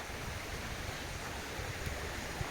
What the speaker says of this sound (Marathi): हा पाण्याचा ओढा आहे